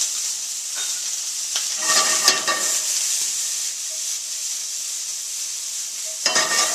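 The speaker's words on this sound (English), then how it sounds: "So we're going to cook them with our sausage to maximize the flavor out of the sage." Sausage and sage leaves sizzle in a hot pan with a constant bright crackling hiss, with a few louder bursts of spitting and stirring as the food is tossed around.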